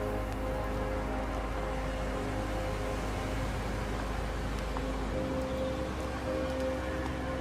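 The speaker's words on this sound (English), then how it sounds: "Oh, raining." Steady rain falling outdoors amid gusty wind, a dense continuous hiss with a low rumble underneath, loud and unbroken throughout with no voices.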